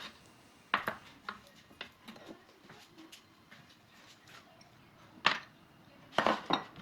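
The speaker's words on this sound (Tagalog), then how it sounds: "Una, maghiwa ng sibuyas at bawang." A knife chops onion and garlic on a board in a home kitchen, with sparse, irregular sharp knocks, a few louder pairs and clusters near the end, and quiet gaps between them.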